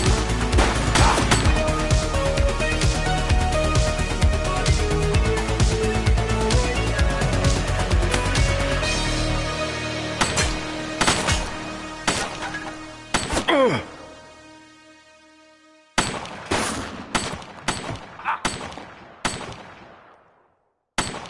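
Sustained heavy gunfire in The Precinct video game, a dense rapid burst of shots that thins into scattered single cracks and a few isolated final shots with echoing tails, loud and close.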